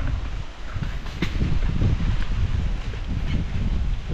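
Steady gusting wind buffets the microphone with a heavy low rumble during a lanzones fruit harvest outdoors, continuous and close with brief dips in strength and no talking.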